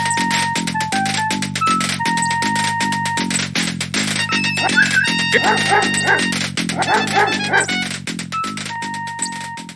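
A dog barks repeatedly in the King's Quest 5 video game, loud steady bursts set against looping synthesized game music with melodic tones throughout.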